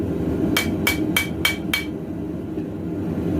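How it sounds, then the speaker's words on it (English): Five quick, evenly spaced ringing hammer blows strike the heated steel tang of a clip point knife during forging, loud over a constant low roar from the forge. "right in here, heat that up, hammer that down some."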